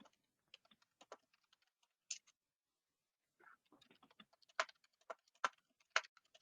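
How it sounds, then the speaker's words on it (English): Someone typing on a computer keyboard in the background of an online meeting, faint scattered keystrokes in short bursts with a pause midway, no talking. "I hear Jessica typing"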